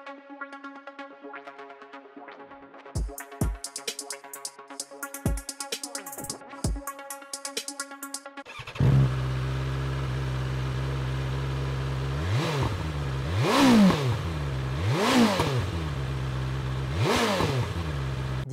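Motorcycle engine idling, then a louder BMW S1000RR sport bike revving in several sharp bursts that rise and fall, close by, with no talking.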